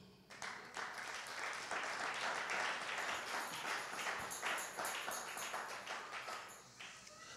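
Church congregation applauding during a service, a soft, distant wash of many hands clapping that swells and holds steady, quiet overall.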